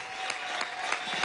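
An audience at a ceremony honouring Olympic medallists gives Venezuela's first Olympic gold medallist, Francisco "Morochito" Rodríguez of 1968, steady, moderately loud applause in a brief burst.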